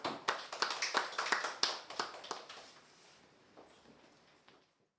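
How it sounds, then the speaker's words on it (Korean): An audience claps to welcome a professor to a lecture, with a burst of sharp, rhythmic applause that thins out and fades to silence within a few seconds. "박수로 맞이해 주세요."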